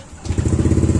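Stock motorcycle engine fitted with a JVT v3 power pipe exhaust idles close by, a steady throbbing putter with quick regular pulses that starts abruptly and holds a mellow, even rhythm.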